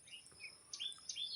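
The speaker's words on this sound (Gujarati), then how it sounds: "મસ્ત મજાનું જો પશુ પક્ષી કિલોલ કરે છે" Faint bird chirps and short tweets sound at a distance in a quiet rural morning, with a steady high insect drone underneath.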